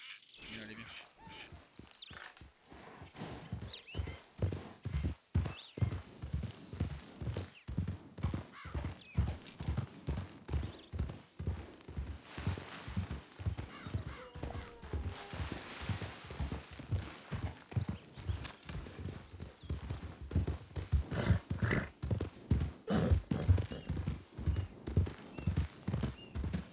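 A horse's hooves clip-clop in a steady, close rhythm of sharp, evenly spaced strikes, continuing throughout, with an occasional whinny and faint voices in the background.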